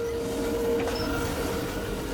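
Steady rolling rumble and rail noise inside a moving Amtrak Capital Corridor passenger train, with a faint sustained tone and a brief soft clatter partway through. Nobody speaks.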